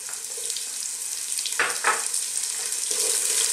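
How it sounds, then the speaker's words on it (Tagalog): Onions sautéing with toasted garlic in a pan for Filipino mussels in coconut milk, a steady close sizzle broken by two quick scraping stirs midway and another near the end, with no talk. "Lutuin lang natin yung sibuyas ng mga ilang segundo ulit."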